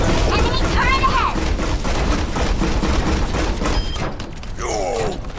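Rapid gunfire from an enemy turret in the Overwatch video game, a dense, continuous burst of shots running loud through the whole stretch, with game voices and effects layered over it.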